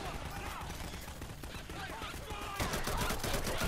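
Dense, continuous volleys of gunfire from survivors fighting zombie hordes in Garry's Mod, crackling steadily and growing louder toward the end, with voices faintly underneath.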